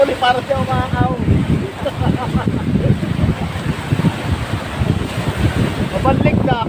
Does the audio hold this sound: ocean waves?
yes